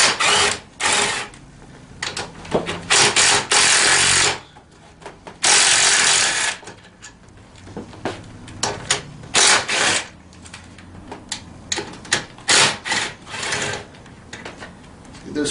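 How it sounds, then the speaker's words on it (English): Power tool removing four bolts from the rear of a 110 mini ATV, heard as repeated bursts of loud, close rattling whirring, separated by clicks and handling noise. "So we'll remove these 4 bolts."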